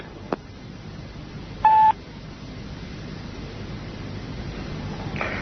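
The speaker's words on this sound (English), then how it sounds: "can you ring Bernie, please?" A telephone number is dialed, with a short burst of touch-tone beeps near the start, alone against quiet line hiss, followed by faint clicks.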